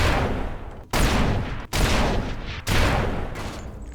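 Small gun firing in the People Playground sandbox game, four loud close blasts roughly a second apart, each with a long noisy tail running into the next, no talk over them.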